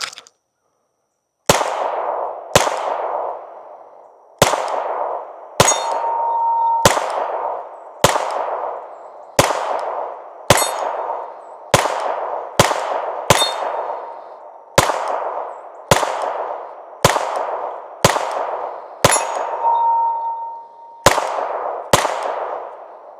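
Shots from a Glock 45 pistol at steel targets, about seventeen sharp cracks each trailed by a ringing metallic clang and decay, fired at an irregular, deliberate pace outdoors.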